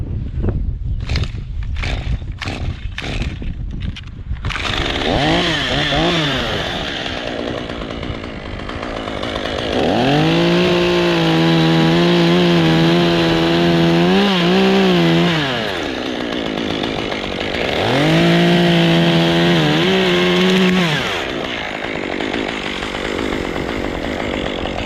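Chainsaw cutting down a tree over a lake: a few pull-start rattles, then the engine roars to life and bogs under load through two long cuts, loud and close.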